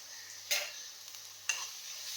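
Ginger and garlic sizzle in a hot pan with a steady hiss, broken by two sharp scraping stirs about a second apart.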